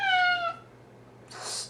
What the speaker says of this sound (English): As you can hear, my cat is here.